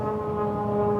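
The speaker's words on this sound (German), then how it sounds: "Ach, das ist ein Flugzeug über mir." An airplane passes overhead, heard as a steady low droning hum with a constant pitch through the whole second.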